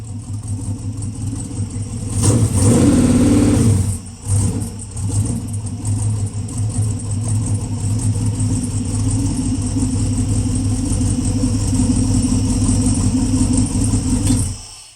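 A 6.2 LS3 or 6.0 LY6 V8 engine with upgraded mufflers roars under load on a dyno, a deep loud rumble that surges early, dips briefly, then holds a steady throaty drone until cutting off.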